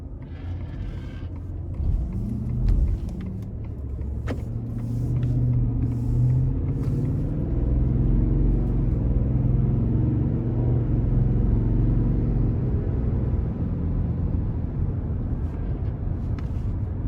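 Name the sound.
2021 Ford F-150 XL V8 regular cab driving on road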